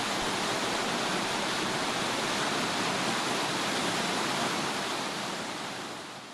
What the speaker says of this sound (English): Upon reaching the waterfall,